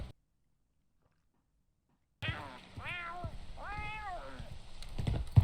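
Cat meowing in the video game Warzone 3, two or three clear rising-and-falling meows close up after a stretch of silence, with faint game noise underneath.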